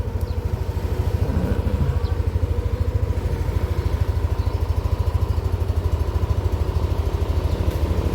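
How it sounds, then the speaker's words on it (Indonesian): A motorcycle engine runs through a quiet village after rain, a steady, close, throbbing drone with an even pulse that lasts the whole stretch, with no voices over it. "Ya ora sepi-sepi banget ya enek motor ya."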